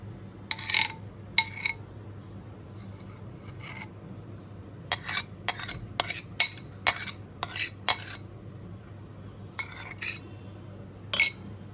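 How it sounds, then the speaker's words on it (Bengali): Bread pudding mixture is poured into dishes, with sharp metallic clinks of utensil against dish: a few early taps, a rapid cluster in the middle, then scattered clinks over a quiet background. "এবার মিশ্রণটা ঢেলে দিচ্ছি।"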